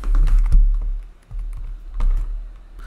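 Typing on a computer keyboard, a quick close run of light clicking keystrokes with a brief pause midway, heard alone without talk.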